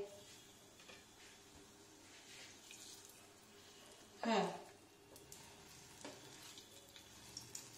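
A single test ball of paneer kofta drops into hot oil and sizzles in a kitchen, a steady low frying hiss broken by one louder burst of crackling partway through, then settling back to a gentle bubble.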